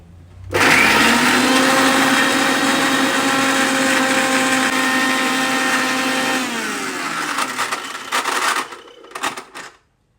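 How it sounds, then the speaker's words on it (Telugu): Mixer grinder running continuously, blending chopped onion with a teaspoon of cumin seeds; a loud, steady motor whine starts abruptly, holds for several seconds, then slows and sputters to a stop. "ఈ ఆనియన్ దీంట్లో ఒక్క టీ స్పూను జీలకర్ర వేసి మిక్సీ పట్టుకొస్తాను"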